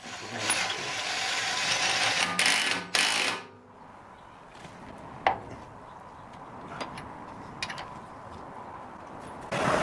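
A hand ratchet clicks in fast bursts while turning the nut of a wheel bearing removal tool on the rear hub of a BMW 325i E90, close and loud, then slower scattered clicks follow.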